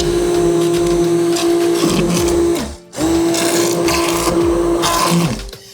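An immersion blender runs steadily with a loud motor whine, dipping briefly once mid-run as it pulls down hard into spiced butternut squash soup.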